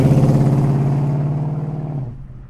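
A 1949 Ford F1 pickup engine drones loudly and steadily while driving, its pulsing note holding for about two seconds before easing off.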